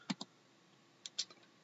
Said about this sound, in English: You type in your password